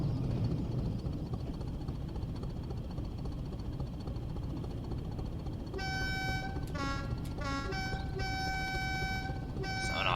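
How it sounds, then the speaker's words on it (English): A high-pitched Class 20 diesel train horn in Train Sim World sounds several times in short and long blasts over a steady low rumble of the moving train. "Proper high pitch. Sounds like a German train horn."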